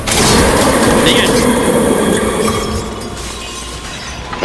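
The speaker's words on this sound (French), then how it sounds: "c'est le bruit des vaisselles" Dishes shatter and clatter in the Mario Funhouse Deluxe video game, a dense crashing burst that fades over a few seconds under lively French chatter from players.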